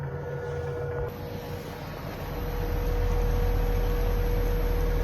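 An electric pod motor on a Feeling 850 sailboat runs at full power: a steady, loud hum with a broad rushing noise and a faint high whine, building in strength after a couple of seconds and holding constant.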